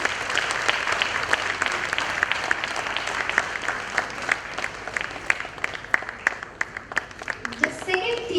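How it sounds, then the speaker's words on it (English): An audience applauds the winning team at an International Women's Day 2022 event, sustained dense clapping from a crowd that runs steadily throughout without pause. "Let's have an applause for them"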